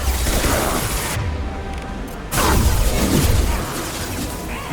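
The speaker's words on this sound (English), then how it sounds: "Taking heavy fire!" Heavy gunfire and impacts in the Mass Effect 2 Legendary Edition video game, a loud continuous barrage that drops briefly mid-clip before returning at full intensity.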